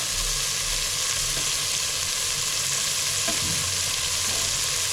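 Onion, tomato and ginger-garlic paste sautéing in a pan, a continuous dense sizzle heard up close with a few faint stirring knocks and no talking.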